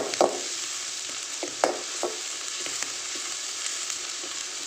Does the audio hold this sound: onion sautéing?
yes